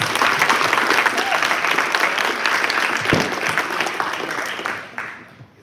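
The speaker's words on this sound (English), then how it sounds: "So give them one more round of applause." A room full of people applauding at a school athletic awards banquet, a thick, steady round of clapping that carries on for several seconds before thinning out and dying away near the end.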